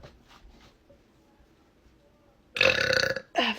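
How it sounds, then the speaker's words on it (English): A woman lets out two loud, guttural burps close to the microphone, the first long and drawn out, the second shorter, after a quiet stretch with faint breathy sounds. "have to burp a lot."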